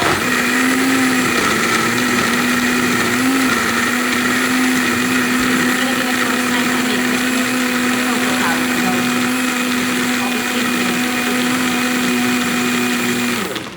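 A small single-serve blender whirs loudly and steadily for the whole stretch, a high motor whine that cuts off at the end, blending a protein smoothie.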